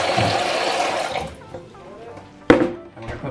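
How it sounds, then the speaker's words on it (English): Water pours into a bowl of mashed potato mix, a steady broad splashing rush that fades after about a second, with faint voices and a sharp clatter later. "Now we're gonna put water in it."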